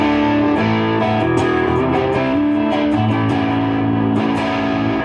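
Electric guitar played through a low-to-mid gain Klon-style overdrive pedal with the gain turned up a little, sustained chords and notes ringing continuously with moderate grit, loud and close, no talking.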